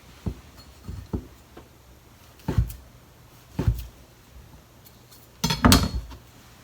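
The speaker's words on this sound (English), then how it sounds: "So first, slice kamaboko or fish cake." Kamaboko fish cake sliced with a knife on a board, giving a handful of separate soft knocks and clicks spread apart, with a sharper cluster of two quick cuts near the end, close and fairly quiet.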